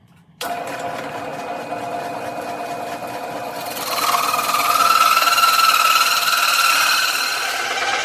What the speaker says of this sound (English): center punch that marking so that my circle cutter will go straight through the board